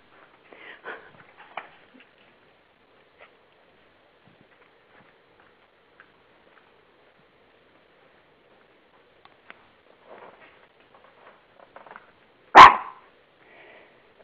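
A small dog gives a single sharp, loud bark near the end, after a long, mostly quiet stretch broken by faint scattered movement noises.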